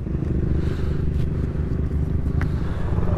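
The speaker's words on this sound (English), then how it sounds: "Whoa, I'm on a KFX 450." A Kawasaki KFX 450 race quad rumbles steadily close by on a Wisconsin trail, its engine noise constant and heavy throughout with faint clatter over the top.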